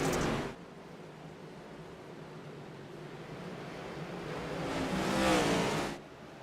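Race cars lapping Bristol in the iRacing sim, a steady broad engine roar throughout with a brief louder surge near the end as cars pass close, no talking.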